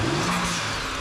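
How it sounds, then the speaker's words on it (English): Car engine fitted with a new blow-off valve and intake giving a big rev, a loud sustained throaty engine roar with a faint whooshing hiss on top, close by. "All right, give it a big rev."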